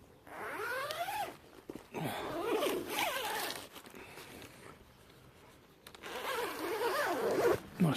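The zip on a two-man pop-up tent's door, under a big flap, rasps open and closed in several quick close pulls separated by short pauses.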